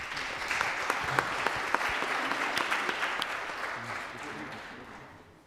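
The congregation at an Easter Mass applauds the newly baptized, a steady wash of many hands clapping in a reverberant church, with a few sharper claps standing out before the sound gradually tapers away.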